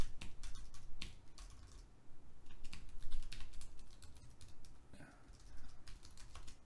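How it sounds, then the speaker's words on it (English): Rapid, uneven clicking of keys on a computer keyboard, close and fairly quiet, with brief pauses in the typing. "I can't type today."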